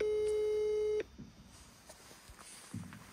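A phone call's steady electronic tone sounds for about a second, then cuts off into quiet room noise. The call comes from a stay at the Kungsberget ski resort in Sweden.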